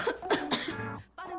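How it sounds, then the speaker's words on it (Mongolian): Two people pretending to have colds cough in a series of short, close bursts, several in quick succession with a brief pause before a final cough. "Ямар амар ханиалгаж байна"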